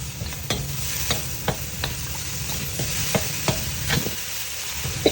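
Broccoli fries and sizzles in a pan of pasta sauce with a steady hiss, punctuated by the repeated scraping clacks of a utensil stirring close by; no voices.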